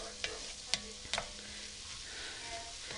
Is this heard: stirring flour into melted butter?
yes